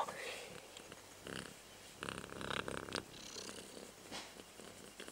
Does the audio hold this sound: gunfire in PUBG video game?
no